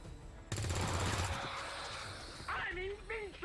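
A loud burst of automatic gunfire from an XCOM 2 firefight rattles up close, then fades into a rumbling tail as a voice speaks over it.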